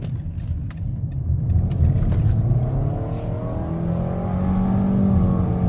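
A Nissan Altima 2.5 SV accelerates hard out of a turn, the engine droning loudly from inside the cabin with a rising whine that climbs steadily as it pulls.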